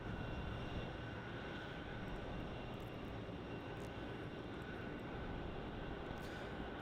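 An airliner arriving at Melbourne Airport at night, a steady, fairly faint broadband engine roar holding level throughout with no speech.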